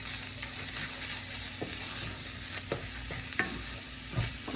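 A cheeseburger casserole mixture sizzles steadily in a pan, with occasional soft stirring scrapes and small pops; close, even and continuous, with no talk.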